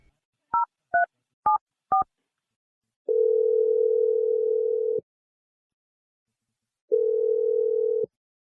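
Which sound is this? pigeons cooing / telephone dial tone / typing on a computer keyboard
telephone dial tone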